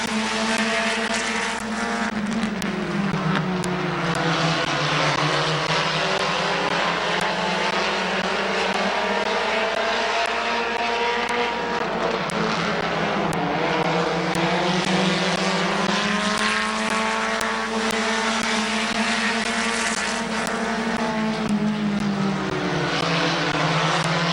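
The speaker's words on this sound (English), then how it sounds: "We are halfway on your compact heat race." Compact cars racing together in a speedway heat race at Midvale Speedway, a loud continuous engine roar with rising and falling revs as the pack circles the track, close and steady throughout.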